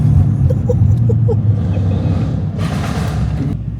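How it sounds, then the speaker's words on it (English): A Mercedes-AMG car engine revs on a Central London street, a steady deep rumble that swells louder partway through, heard up close without talk. "Rev it!"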